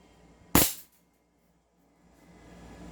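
KP06 airsoft pistol firing one shot, a single sharp, close crack that decays quickly, followed by a quiet room and a faint rising hiss at the end.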